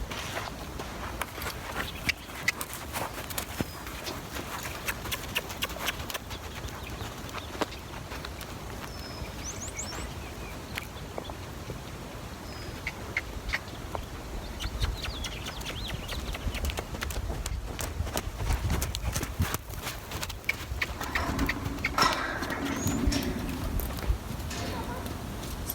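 A horse pacing on a lunge line in an arena, its hoofbeats a continuous quick rhythm of soft thuds at moderate distance, with a person talking over them and occasional birdsong.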